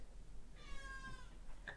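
A cat named Arthur gives one short, clear meow with a bright rising-and-falling tone, faint and close against a quiet room, followed by a tiny squeak.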